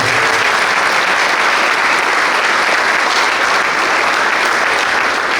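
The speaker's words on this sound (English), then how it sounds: "Give Sarah Lyman a round of applause" Sustained, dense applause from a banquet audience at a boys lacrosse awards night, loud and steady throughout with no voices over it.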